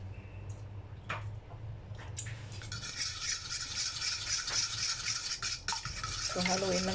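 Coconut milk and condensed milk bibingka batter stirred in a bowl, a steady scraping swish running throughout with a few sharper knocks, close and moderately loud.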